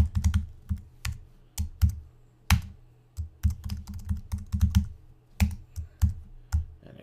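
Fingers tap out quick, uneven bursts on a computer keyboard, crisp close-up keystrokes with short pauses between.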